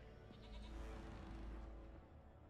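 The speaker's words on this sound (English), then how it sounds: "All these goats came out of nowhere." Goats in The Witcher 3 video game give a couple of close, quavering bleats over a low background rumble, with no one speaking.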